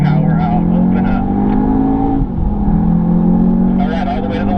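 An Audi TTS accelerates hard out of a corner on the Sonoma track, its engine holding a loud, steady drone through the cabin, with a brief dip mid-pull, while an instructor talks over it.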